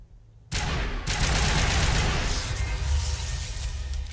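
Sustained assault rifle fire in Mass Effect, a sudden dense burst of rapid automatic shots that keeps rattling loudly and close for several seconds with no pauses.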